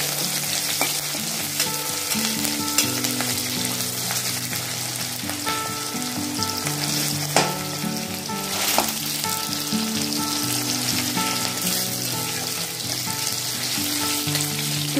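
Onion and tomato sizzling in a pan for a Bengali fish curry, a steady loud crackle with intermittent stirring scrapes and clinks, no talking.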